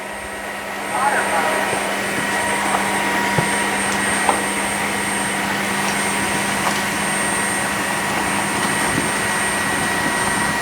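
A Dreame H12 Pro wet dry vacuum running in auto mode gives a steady, loud whirring hum with a constant high whine, with a few small bumps and clicks and no change in level.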